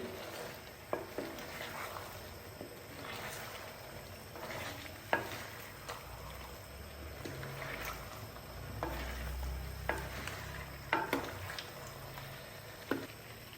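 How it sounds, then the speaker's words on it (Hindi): Cauliflower being stirred into masala while frying for Punjabi-style aloo gobhi: steady soft sizzling throughout, with occasional spoon scrapes and clacks against the pan, close by and without speech. "गोभी डालने के बाद मैंने इसको अच्छे से मिक्स कर दिया है"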